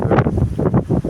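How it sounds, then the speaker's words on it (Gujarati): Strong, gusty wind roars across an open farm field in a Gujarat village ahead of rain, buffeting the microphone in loud surging pulses with no voices. "પવન અત્યારે તો આ ખતરનાક રીતનો પવન થઈ ગયો છે."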